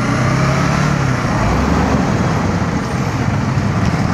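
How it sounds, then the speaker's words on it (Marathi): Dense road traffic jam heard as a continuous loud rumble of engines and tyres, with heavy trucks or buses idling and moving close by and no clear voices. "फुल ट्रॅफिक आहे बघा ना"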